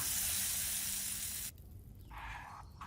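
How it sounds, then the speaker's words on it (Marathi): Mustard-seed, curry-leaf, asafoetida and dried red chilli tempering in hot oil, poured over coconut chutney, sizzles loudly and steadily for about a second and a half, then cuts off sharply, leaving faint clinks and rustles. "ही फोडणी चटणीवर ओतूया"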